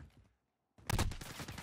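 An SKS rifle fires in Call of Duty Modern Warfare, a sudden loud close gunshot after a brief hush, followed by a ringing, crackling tail.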